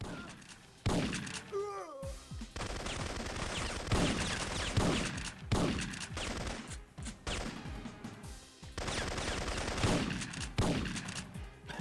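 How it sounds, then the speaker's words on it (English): Repeated loud shotgun blasts in the video game Syphon Filter, fired in bursts with brief gaps between them, and a voice heard briefly amid the gunfire. "Shotgun headshot."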